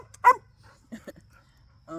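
A dog barks close by: one loud, sharp bark, then a couple of shorter, softer yaps after a pause. A voice starts up at the very end.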